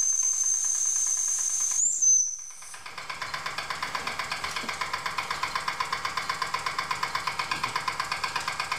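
A small Wilesco D6 model steam engine, running without load, chuffs rapidly and evenly after a brief hiss of steam, its quick regular beats steady and close by.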